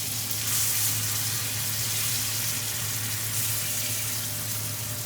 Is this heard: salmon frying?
yes